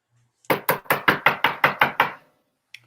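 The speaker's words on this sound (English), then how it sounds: "A knock is heard from offstage." Knuckles rap on a door offstage during a stage play: nine sharp, evenly spaced knocks in a quick steady rhythm, loud and close, followed by a short pause and one small faint tap.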